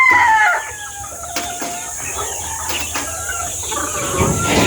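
Chickens in a simple backyard poultry pen cluck close by, and a rooster crows loudly at the start before quieter clucks and calls carry on over a steady hum.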